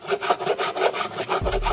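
Grater-like auto body file rasping across body filler during a custom lowrider bicycle build, a run of rhythmic back-and-forth scraping strokes, close and fairly loud.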